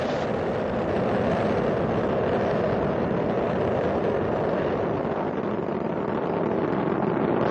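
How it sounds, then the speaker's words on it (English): Space Shuttle Discovery's engines roaring during launch ascent from Kennedy Space Center on mission STS-119, a loud, unbroken broadband rumble that holds steady from start to finish with no voices. "Discovery's engines are throttling down as the orbiter passes through the area of maximum pressure on the vehicle"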